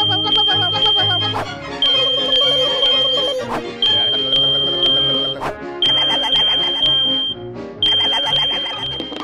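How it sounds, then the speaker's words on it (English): A smoke alarm's piercing test beep sounds in repeated pulses over a busy musical soundtrack, loud and close, recurring every couple of seconds. "Are your smoke alarms working? You need to test your smoke alarms every month."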